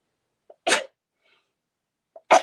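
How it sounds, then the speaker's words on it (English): Two sharp human sneezes, each preceded by a quick intake of breath, sound close and loud, separated by near silence, during a live quilting demonstration. "Oh, excuse me, had to sneeze."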